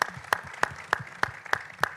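Clapping at an International Women's Day forum, heard as sharp, evenly spaced claps about three per second in steady unison, close and fairly loud, with no talking over them.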